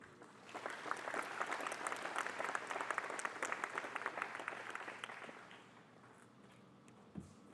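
An audience at a campus ribbon-cutting ceremony for a renovated old main building bursts into sustained applause, a full crowd of clapping hands swelling quickly, holding for about five seconds, then thinning out, with a brief thump near the end.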